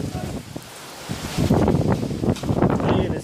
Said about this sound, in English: it's very windy as well